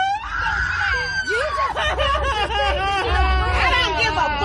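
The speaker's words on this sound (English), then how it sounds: "This is one of the most satisfying cries I've heard in a long time." A woman cries and screams loudly in a rowdy crowd at a nude bowling event, her wailing rising over babble, laughter and shouting voices around her.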